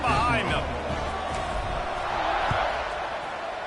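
Stadium crowd in the NCAA Football 26 college football video game, waiting on a kickoff after a touchdown against Miami. A steady, loud roar of cheering runs throughout beneath continuous play-by-play commentary.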